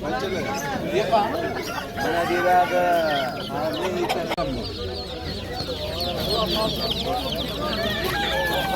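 Chicks cluck and chatter in a noisy cluster, close by, at a poultry market, mixed with people talking in the background.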